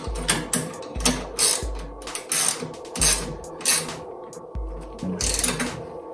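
A ratchet wrench tightening the screw on a kart's radiator mount, loud close clicking bursts in short repeated strokes with brief pauses between them.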